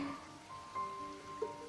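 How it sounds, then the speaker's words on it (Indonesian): Rain falls in a steady, soft hiss, faint and even, with a few light tones faintly mixed in and no voices. "aku cuma mau denger hujan sambil merem sebentar,"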